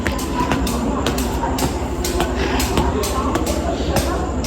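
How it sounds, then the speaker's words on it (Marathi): Indian railway station ambience with a train present, a steady rumble and clatter under busy crowd noise and voices of people talking nearby throughout. "आम्ही आलो रेल्वे स्टेशनवर"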